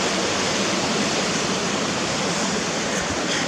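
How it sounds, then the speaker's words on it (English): Waterfall at Roughlock Falls, a steady, dense roar of falling water that stays constant and close throughout, with no voices. "the sound itself of a waterfall"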